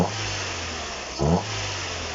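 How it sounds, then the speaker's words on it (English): A car engine being revved in a garage during a clutch and flywheel replacement, steady running with one short, louder rev burst partway through; no talk. "You see what the belt's supposed to do when you rev it up?"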